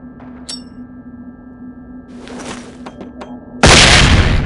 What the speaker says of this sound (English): designed to disorient people with a very loud bang and an extremely bright flash.